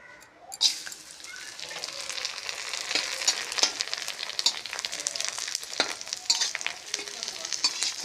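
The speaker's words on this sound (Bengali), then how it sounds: "পাপড় ভেজে নিচ্ছি" Papad frying in hot oil, crackling and sizzling with a sharp burst near the start, then an uneven run of pops and bubbling that grows denser, with a few scattered louder crackles throughout.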